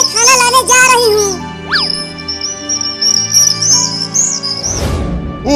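A parrot in a comedy sketch gives loud, close chirps and then a long, wavering whistled call. A low rumble follows at the end.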